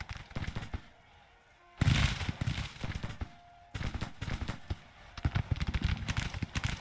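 Canister artillery and massed musket volleys in the Civil War strategy game Grand Tactician crack and boom in dense, repeated bursts, with loud blasts at intervals over a rattling, continuous background of gunfire.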